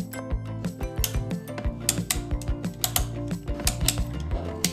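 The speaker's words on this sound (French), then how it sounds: "Après cela, vous pouvez commencer à cliqueter." Ratchet strap being cranked tight, a quick series of sharp metallic clicks in an uneven repeating rhythm, close and crisp with no voices.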